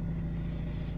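A Peugeot Expert van's engine idles steadily just after starting, a close, constant low rumble with no other sounds over it.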